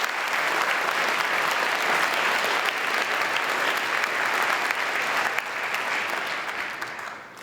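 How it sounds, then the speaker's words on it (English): A school gym crowd at a high school Veterans Day assembly gives a long, steady round of applause, dense and full for about seven seconds before it tapers off slightly, with no speech over it. "Let's have a round of applause"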